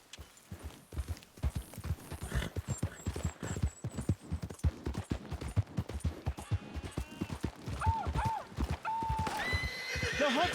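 Horse in Red Dead Redemption 2 gives a clear whinny near the end, over steady rhythmic clip-clop of hooves throughout, with a low hum beneath.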